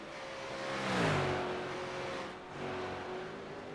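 A V8 Supercar on the track at Monza in a New Zealand division 2 championship round swells to a loud engine roar as it passes, its pitch dropping, then eases into a steady further-off drone.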